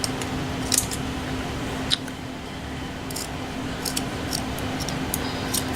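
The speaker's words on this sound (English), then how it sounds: "These scissors are lousy." Scissors snip through a piece of lace in a quiet room, a handful of faint, crisp cutting clicks in short irregular bursts over a low steady hum.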